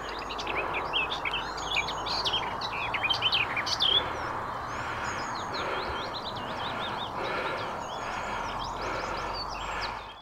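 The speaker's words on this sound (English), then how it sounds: "just listen to the sound of the birds here" Many birds singing outdoors along a Peak District hiking trail, a lively mix of chirps and warbling phrases over a soft breezy background, moderately near and continuous, no talking.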